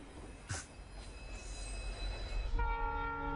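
A passenger train pulls away from the station with a steady rolling rumble, then its horn blares loud and sustained near the end, with no talking.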